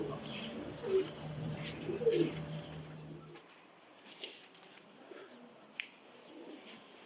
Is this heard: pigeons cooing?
yes